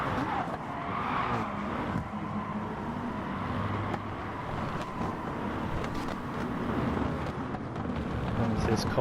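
Racing cars in Gran Turismo Sport roar steadily through a corner during a chaotic FIA online race, with a brief tyre skid as a GT-R loses grip; engine noise stays loud and continuous throughout, with commentary talk mixed in.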